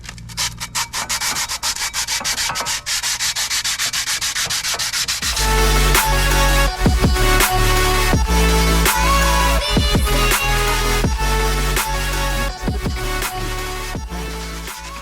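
A brake rotor on a Dodge Grand Caravan is scuffed with 100-grit sandpaper wrapped on a wood block, giving close, loud rhythmic back-and-forth rasping strokes, quicker and lighter at first, then heavier, steady scrubbing.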